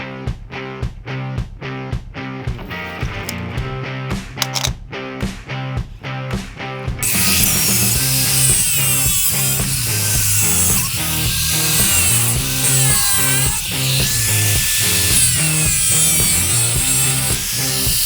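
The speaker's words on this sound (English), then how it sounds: "I like to get everything rough cut, pretty much get all the holes drilled out" Power tools rough-cutting and drilling wood in a workshop: a run of loud rhythmic bursts gives way to a continuous, harsh, whining roar of cutting that dominates to the end.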